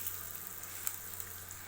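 Halved boiled eggs fry in a masala gravy base, giving a steady, close hiss of oil with faint crackles throughout.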